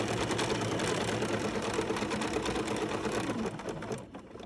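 A BERNINA sewing machine chain-piecing quilt fabric runs in a steady, close whirring stitch, with brief back-and-forward stitches blending into a continuous hum that slows and fades near the end.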